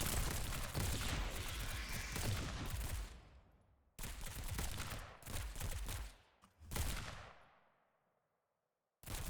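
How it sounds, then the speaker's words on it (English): Heavy gunfire in a video game rolls in long, dense bursts, broken by short pauses and a sudden cutoff into near silence at the end. "Why is he shooting the Scar again?"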